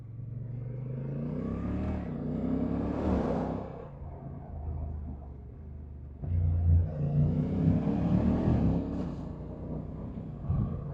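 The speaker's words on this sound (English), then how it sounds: "Let's get away from that traffic." Road traffic passes a rider on a motorbike tour, heard through a helmet: vehicle engines rumble and rise as they accelerate, dip in the middle, then swell again nearby, with a steady wind and engine drone underneath.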